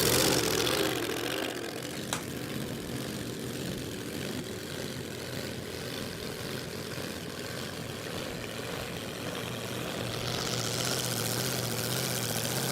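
A turbocharged V8 dragster at Willowbank Raceway makes a continuous, loud, broad roar that eases slightly after the opening and swells again toward the end.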